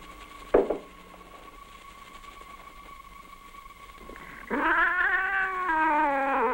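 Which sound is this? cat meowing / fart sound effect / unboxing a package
cat meowing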